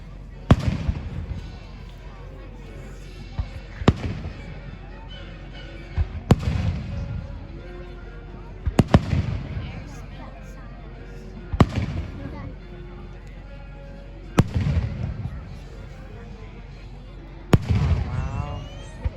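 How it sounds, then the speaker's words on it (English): Independence Day fireworks explode in a series of sharp booms spaced a few seconds apart, each followed by crackling and a fading rumble, with occasional exclamations from a nearby voice between bursts. "Oh man, these are some pretty good fireworks."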